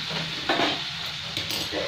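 Hot water is poured into frying masala for a Bengali fish curry with potato and eggplant, giving a sudden louder sizzle over steady frying hiss, with a brief spoon scrape near the end.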